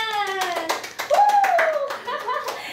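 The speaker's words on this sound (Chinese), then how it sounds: "我们热烈掌声欢迎李主任。" A small studio audience claps to welcome a guest, a short burst of close, crisp hand claps mixed with voices and a light laugh, loud at first and thinning out.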